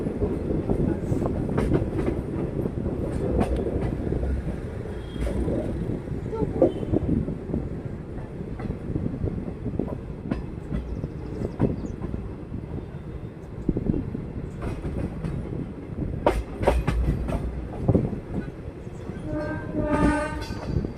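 Express train 17308, the Bagalkot–Mysore Basava Express, rumbles past with loud, continuous wheel and carriage clatter and passing bursts of rushing noise, then a horn blares near the end.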